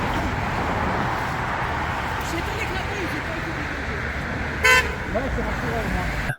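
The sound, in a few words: car horns honking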